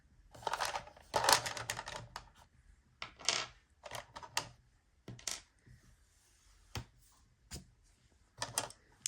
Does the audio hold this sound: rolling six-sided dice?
yes